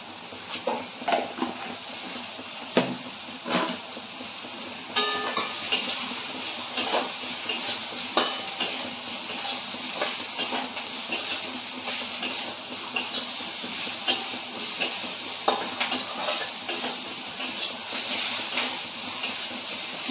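Masala for potol chingri (pointed gourd with prawns) frying in a pan, a steady broadband hiss with repeated clicks and soft scraping taps of stirring throughout, fairly close and without talk.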